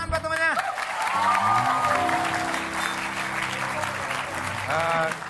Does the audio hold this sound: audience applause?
yes